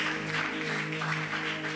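Church congregation applauding during a worship service, a faint, steady patter of many hands over a low sustained hum.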